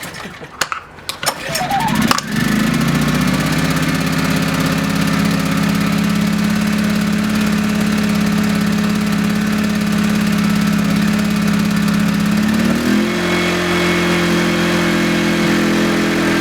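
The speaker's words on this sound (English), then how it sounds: "I want this to run at a high idle, so it'll get the carburetor emptied faster" A Yamaha EF2000is portable generator starts with a pull, then its small engine settles into a steady, close, loud high idle with an even drone, the pitch shifting slightly near the end.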